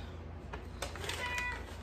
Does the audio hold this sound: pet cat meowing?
yes